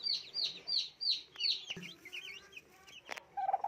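A turkey hen clucks softly among newly hatched chicks, with a run of high peeping chirps followed by scattered clucks and shuffling, heard close and quiet.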